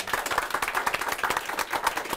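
Live talk-show studio audience applauding the three MCs, a steady dense patter of many hands clapping throughout at moderate loudness with no voices.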